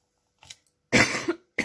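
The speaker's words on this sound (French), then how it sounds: "Oui, je tousse encore." A faint breath then two sharp, close coughs in quick succession.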